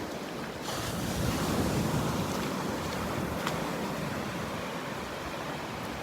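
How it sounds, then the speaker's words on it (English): Ocean surf rolls and breaks on a Gulf beach at Delnor-Wiggins, a steady loud wash of waves with gusty wind buffeting the microphone throughout, no voices. "standing out where the waves are breaking"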